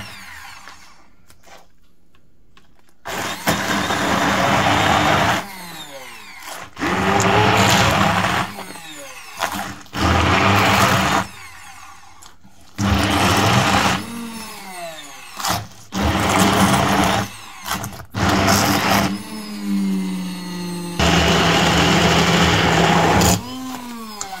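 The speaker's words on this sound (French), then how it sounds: "Avec un vrai mixeur, on mixe les deux." A kitchen blender mixes ground coriander and caraway for harissa, whirring loudly in repeated pulses of two to three seconds separated by short pauses.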